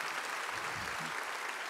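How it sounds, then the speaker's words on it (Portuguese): A church congregation at a Christian worship service applauds its pastor with steady, dense clapping that fills the room, a faint voice briefly audible beneath it. "Vamos aplaudir o pastor Jesus,"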